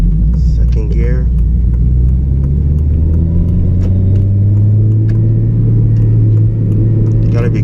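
A 2009 Honda Civic Si with VTEC pulls hard in second gear, its engine droning loud and close with a steadily climbing pitch and road rumble underneath, heard from inside the car while a voice speaks briefly.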